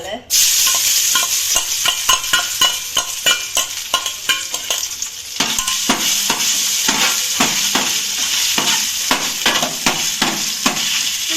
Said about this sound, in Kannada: ಎಣ್ಣೆ ಬೆಚ್ಚಾತದೆ ಇತ್ತೆ ಶುಂಠಿ ಬೆಳ್ಳುಳ್ಳಿ ಪೇಸ್ಟ್ ಪಾಡೊಂದಿಲ್ಲ